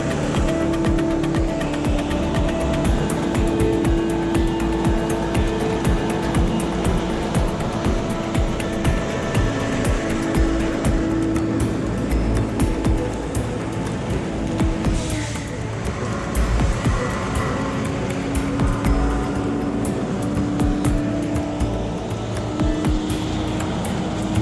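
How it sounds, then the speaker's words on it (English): A TL745D tree-cutting machine with 250-horsepower saws runs continuously, a loud, dense mechanical drone with a sustained tonal whine and constant rattling. "TL745D is a remarkable machine capable of cutting trees up to 30 feet long and 40 inches in diameter"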